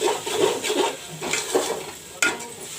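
Masala spices with salt frying in a pan for a mutton curry, rhythmic scraping stirs over a low sizzle, ending with a sharp clack of the utensil against the pan, close and without speech.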